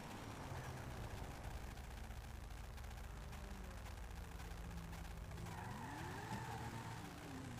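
A car in Grand Theft Auto 5 drives with a steady engine drone and long tire squeals as it skids, then pulls away with rising engine pitch, fairly faint overall.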